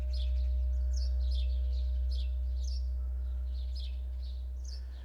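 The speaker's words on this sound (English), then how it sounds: "She's got 2 tuning forks." A tuning fork at 62.64 hertz rings as a steady, deep hum that slowly fades near the end, with faint chirping sounds above it and no speech.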